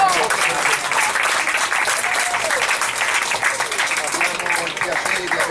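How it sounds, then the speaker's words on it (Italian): Applause from an audience at an evening event in honour of Bill Adams, dense steady clapping filling the whole stretch, with a voice or two faintly audible beneath it. "facciamo un grande applauso a Bill"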